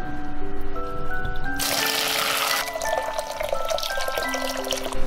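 Boiling water is poured into a pot of rock sugar caramelised in a little oil, giving a brief rushing, hissing pour midway over soft background music.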